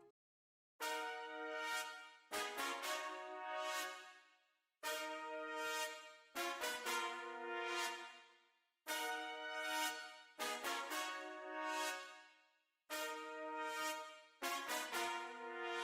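Bright, punchy brass phrases from the Session Horns Pro sample library on its Bright Brass preset play in a repeating pattern of sustained chords and short stabs with silent gaps between phrases, clean and up front with no talking.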